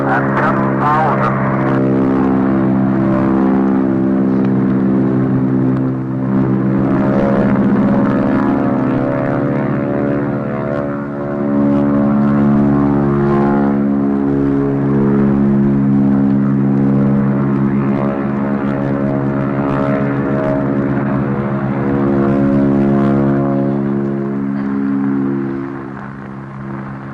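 Propeller aircraft of a squadron taking off in a 1939 radio drama sound effect, a loud sustained droning engine roar that swells and holds throughout, with voices speaking over it.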